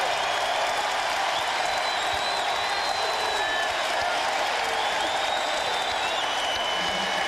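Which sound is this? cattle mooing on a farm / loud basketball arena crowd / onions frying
loud basketball arena crowd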